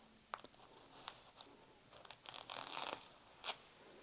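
Backing paper is torn from a sheet of fabric while sewing small Christmas trees from scraps. Several short, sharp rips and crinkles are spread over a few seconds, quiet and close, ending in one longer tearing stretch.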